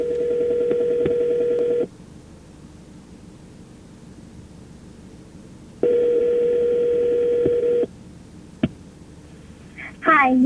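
A phone call through the hands-free system of a 2012 Ford Focus SE: a steady ringback tone plays in two long bursts with a gap of car-cabin noise between, then a click and a voice begins.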